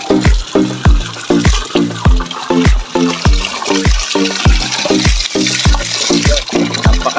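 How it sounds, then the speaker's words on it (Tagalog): Cold spring water flowing up from underground, loud and close, surging in rapid, regular gushing pulses roughly three times a second with a strong splashing rush throughout. "kapag may ganito ng source na flowing tubig"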